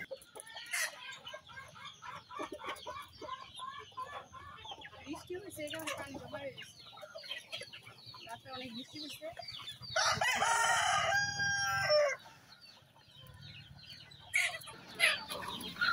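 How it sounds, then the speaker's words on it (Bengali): Farm chickens cluck in a busy, overlapping stream of calls, then a rooster lets out one loud, close crow lasting about two seconds before the clucking resumes more quietly, with some low background noise throughout. "আমার খামারের মুরগিগুলো আস্তে আস্তে অনেক বেশি হইতেছে"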